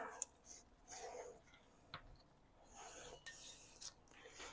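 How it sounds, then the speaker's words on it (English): A Porsche Type 4 engine cylinder is lapped against its cylinder head with grinding compound, giving faint, close scraping and rasping strokes in uneven bursts with a sharp tap partway through. "we're gonna put a little bit of compound here and then grind it in"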